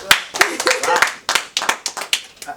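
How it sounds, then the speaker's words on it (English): A short studio round of applause from a small group, with quick uneven claps that rise and fall in clustered bursts, loud and close, with some voices mixed in. "Round of applause for that."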